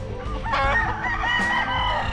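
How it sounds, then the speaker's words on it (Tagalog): A rooster crows loudly and close on a farm, one drawn-out call filling the moment, with faint clucking and other fowl around it. "Gwapo sang manukan din ni Mr. Oy"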